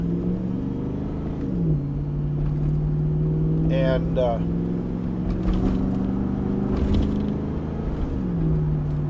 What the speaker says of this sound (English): that doesn't exactly sound like a stock exhaust system, and it's not. It's a Flowmaster catback system.